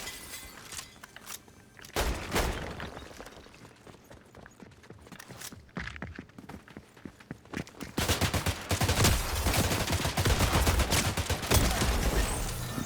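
Bursts of gunfire in Fortnite, scattered shots early and a dense, loud volley of rapid fire in the second half, with no talking over it.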